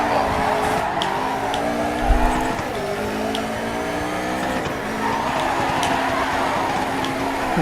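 Racing car drifting in an Xbox racing video game, its engine droning steadily with rising and falling pitch sweeps and continuous tire squeal across the whole stretch, loud and close, with a brief low thump partway through.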